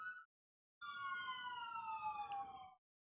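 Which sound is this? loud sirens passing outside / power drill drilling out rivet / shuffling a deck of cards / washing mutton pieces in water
loud sirens passing outside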